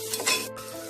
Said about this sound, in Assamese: মছলাখিনি দিয়াৰ পিছত প্ৰায় 1 মিনিট সময় ভালদৰে ভাজি ল'লোঁ।